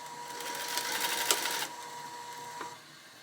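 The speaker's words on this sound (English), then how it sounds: "back stitch on that end." A sewing machine back stitches the end of a fabric crossbody bag, a steady mechanical whir running for about a second and a half with a sharp click in the middle, then a short burst before it stops.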